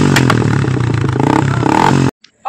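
A modified motorcycle engine runs loud and close with a rough, pulsing rumble and rattling clatter for about two seconds, then cuts out abruptly, followed by a brief faint noise.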